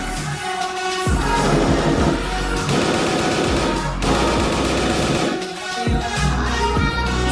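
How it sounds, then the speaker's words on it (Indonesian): Rapid gunfire in a role-play video game, dense bursts of shots and bangs running almost continuously at a loud, steady level with brief lulls between volleys. "Suara senjatanya kok natural."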